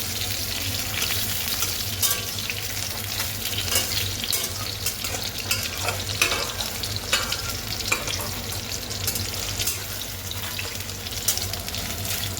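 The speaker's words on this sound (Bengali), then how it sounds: "সেই কাটা পটলগুলো আমি দিয়ে দিচ্ছি এখন কড়াইতে এবং এটাও আমি লাল লাল করেই ভেজে নেব।" Sliced pointed gourd fries in a wok with a continuous close sizzle, and a spatula scrapes and stirs it in scattered clinks and rattles over the hiss.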